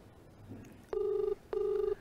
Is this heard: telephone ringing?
yes